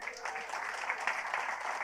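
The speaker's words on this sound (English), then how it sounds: "let's give a big round of applause for Matt McKeever" An event audience claps for a featured guest, a short burst of dense applause heard fairly faintly and evenly throughout, with a few voices mixed in.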